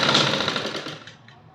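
Domestic sewing machine stitching the sleeve seam of a little girl's gharara outfit, a fast rapid whirring run that starts loud and fades out as the stitching slows, with no talking.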